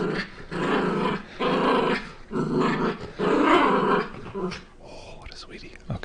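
A dog growls and yips up close in long rumbling stretches broken by short pauses, ending in a few higher whimpering yips.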